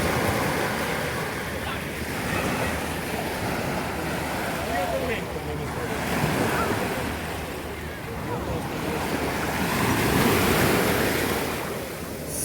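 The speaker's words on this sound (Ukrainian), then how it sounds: "Море хочу показати." Black Sea waves washing onto the beach at Chornomorsk, a continuous surging roar that swells and ebbs, with wind buffeting the microphone throughout.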